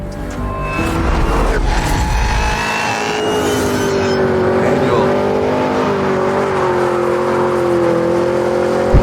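A Cadillac CT5-V Blackwing's engine roars loudly and close up, revving hard in a sustained, rising and falling growl that sounds like a car accelerating past.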